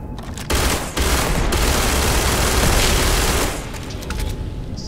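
Sustained heavy gunfire from Starfield gameplay with uranium rounds, loud continuous rapid bursts for most of the stretch, easing slightly toward the end.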